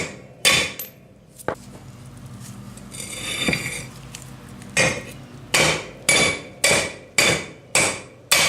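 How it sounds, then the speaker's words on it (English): Sharp metal-on-metal hammer blows pound wheel studs out of a rotor and hub from a Dana 44 axle, a few scattered strikes followed by a steady run of five hard, ringing hits, close and loud. "Now we gotta pound the studs out of the rotor and hub."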